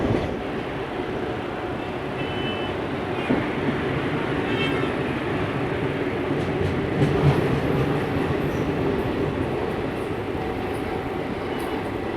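A Bengaluru airport-line local train rumbles along close by, wheels clattering over the rails under a constant roar, with a few brief high squeaks.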